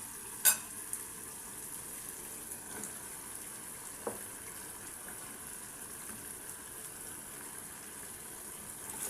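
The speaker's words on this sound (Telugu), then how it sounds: "ఇప్పుడు దీన్ని పచ్చివాసన పోయేంత వరకు వేగించుకోండి." Brinjal pieces frying in a pan for a village-style brinjal and mango curry give a soft, even sizzle throughout, with a few light utensil taps early on.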